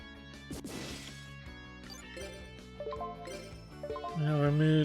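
The Smashing Ground card effect in Yu-Gi-Oh! GX Tag Force 2 lands as a short, sharp crash early on, over quiet looping game music that swells toward the end.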